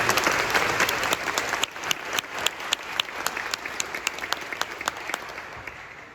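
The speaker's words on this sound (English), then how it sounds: "I think we should give him a round of applause" Audience applause at a 2024 graduation ceremony, a steady wash of many hands clapping that thins toward the end into more distinct individual claps.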